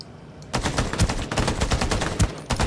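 Rapid bursts of automatic gunfire from the video game Ring of Elysium, a quiet opening then dense repeated shots with a few louder sharp reports, close and continuous with no talking.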